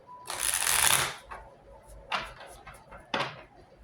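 A deck of tarot cards is shuffled up close. A dense, sustained riffle is followed by two shorter shuffling bursts and taps, with no talking.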